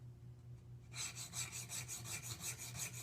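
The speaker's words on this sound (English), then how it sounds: "or I should say, move the chisel back and forth until I can feel a burr, an even burr across the back" A steel woodworking chisel is rubbed back and forth by hand on a sharpening stone, a steady rasping scrape repeating in even strokes close up after a brief quiet start, with no talking.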